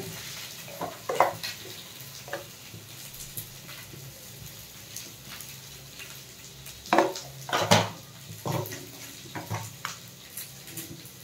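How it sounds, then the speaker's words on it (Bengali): Potato pieces fry in mustard oil in a kadai, a soft steady sizzle under repeated metallic scrapes and clinks of a spatula stirring against the pan, with a few louder scraping bursts and no voices. "তারপর আলুটা ভেজে নেব।"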